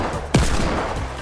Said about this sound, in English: Shoot the targets on the bouncy ball.